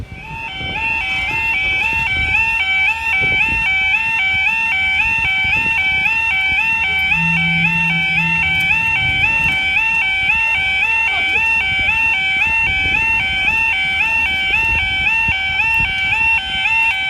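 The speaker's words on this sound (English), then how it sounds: "they're going to test the fire alarms" A faulty fire alarm sounds during a test, continuously with a steady, repeating two-tone electronic pattern, loud and unbroken, over faint background rumble.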